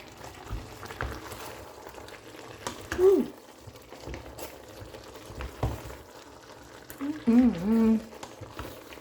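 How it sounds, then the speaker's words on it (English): A pot bubbles and simmers at a steady low churn, with brief voice sounds rising over it now and then. "It's boiling, koto koto koto."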